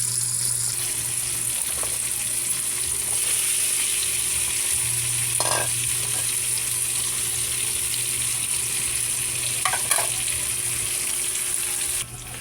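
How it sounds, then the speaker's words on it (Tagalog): Chopped tomatoes are sautéed in a slippery wok-style pan for mung bean stew, giving a steady, close sizzle of frying with a few scrapes and stirring knocks throughout, and no talking. "gisa na natin yung kamatis"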